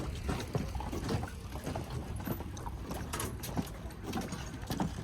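Rented paddle boat moving across the lake at Annecy, France, with steady water swish and splashing strokes plus wind buffeting the microphone, close and continuous, with no voices.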